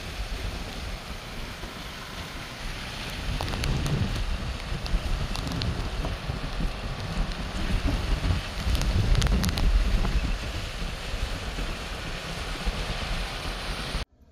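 Stormy wind gusting hard during a storm with rain in the Jat area of Sangli, a steady roaring rush that swells louder in the middle with rumbling buffets, continuous and alone with no voices.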